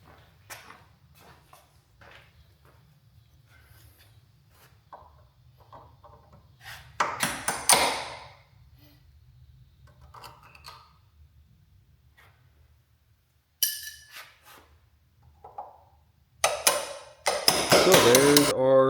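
A bushing tool is tapped with sharp metallic hits to drive worn bushings out of Jeep door hinges, coming in scattered single strikes and short bursts, close by over a faint low hum, with quiet handling noises between them.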